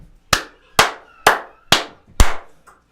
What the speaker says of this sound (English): Clap your hands 5 times.